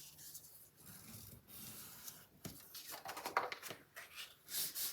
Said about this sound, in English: So we are going to fold and burnish on those 2 score lines.